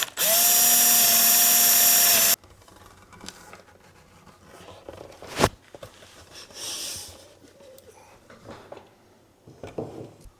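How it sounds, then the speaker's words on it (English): A power drill whirs steadily for about two seconds, loud and close, pre-drilling holes while restoring a Thorens TD165 turntable, then stops; softer clicks and handling noises follow. "The secret is to pre-drill everything."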